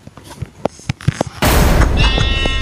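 Sheep bleating in the Minecraft video game, a few short separate calls, followed by a sudden loud burst of noisy game sound that fills the rest.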